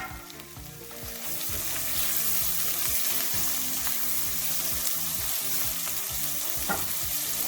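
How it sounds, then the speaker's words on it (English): Pigeon peas tipped into a hot pot of browning oil for rice and peas crackle into a loud, steady sizzle, with rapid stirring scrapes pulsing through the frying and no voices. "I'm adding my peas."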